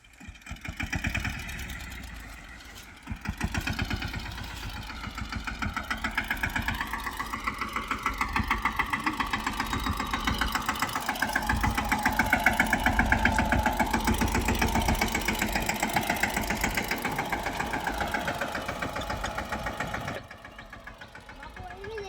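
A tractor engine idles nearby on a farm with a steady, rapid chugging knock that swells slightly midway, then drops quieter near the end.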